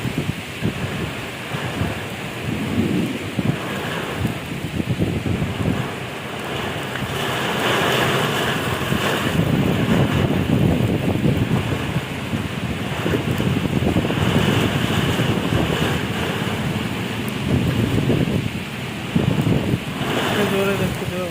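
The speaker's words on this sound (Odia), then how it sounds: "ଜୋରେ ଦେଖୁଥିବେ ବର୍ଷା ପବନ ଦଉଛି" Heavy rain pours over the whole stretch during a strong pre-monsoon storm, with roaring wind gusts buffeting the microphone, and the storm grows louder after the first few seconds.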